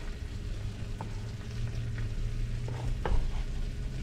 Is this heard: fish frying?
yes